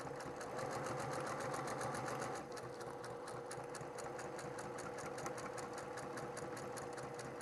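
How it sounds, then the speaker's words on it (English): A sewing machine backstitches through cork fabric on a journal pocket, its needle chattering in a fast, even rhythm that runs continuously at moderate volume throughout. "Let's backstitch in the corner anyways,"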